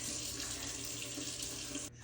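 Tap water running over quinoa being rinsed in a bowl, a steady close hiss of flowing water that cuts off abruptly just before the end.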